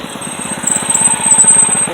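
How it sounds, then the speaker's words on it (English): A Predator 212 mini bike engine with its governor removed runs steadily and close, its fast, even pulsing chug holding level with no one talking. "That's just a nice Predator 212 mini bike with, of course, the governor stripped off and custom seat, and the thing runs pretty cherry"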